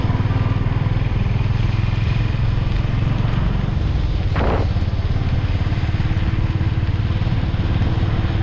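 A motorcycle rides off in light rain, its engine a steady, loud rumble with a continuous wind and road wash, and a brief higher whoosh passing midway.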